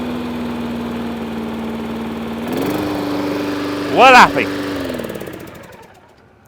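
A Honda gas lawn mower running on diesel fuel idles with a steady, loud, close drone, then briefly revs with a rising whine before winding down and fading out as a voice speaks a few words.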